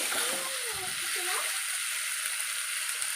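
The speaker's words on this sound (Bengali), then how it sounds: "এই যে মাংস রান্না হচ্ছে" Meat simmers and sizzles in a pan on the stove, a steady soft hiss of frying with a little bubbling, while a voice speaks briefly at the start.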